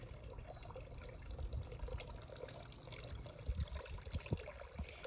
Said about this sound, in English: let's end our video on a gentle water spot